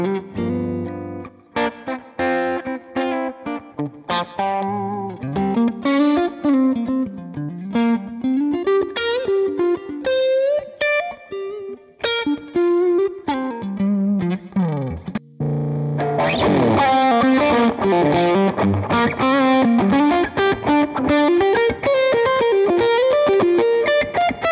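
Distorted electric guitar played through a Helix Elmsley amp model, fluid lead lines and bends with sustained notes, pausing briefly midway before a denser, fuller passage; loud and close with no talking.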